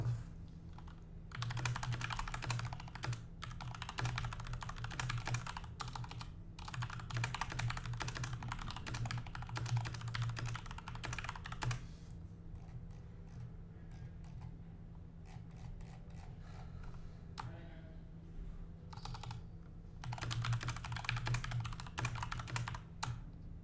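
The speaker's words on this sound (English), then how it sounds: "Sorry guys, I was typing." Typing on a computer keyboard during a live stream, bursts of rapid close key clicks that pause and resume several times over a steady low hum.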